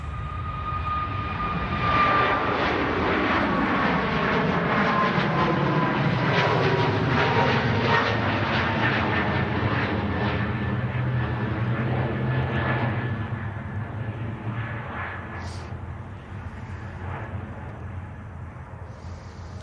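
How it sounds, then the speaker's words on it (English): A Ryanair jet rotating and climbing away from Manchester Airport, bound for Kerry: a loud, sustained engine roar with a whining tone, close at first and slowly fading as it departs. "we have a Ryanair just rotating"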